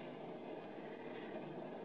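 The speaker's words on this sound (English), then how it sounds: "I wish this train would move a little faster." A moving train, done as a radio drama sound effect: a faint, even rumble and rattle that rolls on without a break, with no talk.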